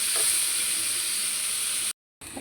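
Bitter gourd fries in a pan, giving a loud, steady broadband sizzle with bright hiss that cuts out briefly near the end, then resumes, close up with no talk.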